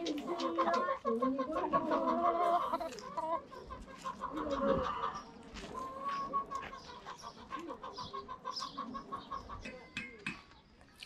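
Chickens on a farm cluck and squawk close by in repeated bursts, a busy overlapping flock with a few brief calls rising above the rest.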